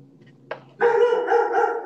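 Dogs barking nearby in a home during a group video call, a short sharp sound followed by a loud, sustained run of barks that lasts to the end.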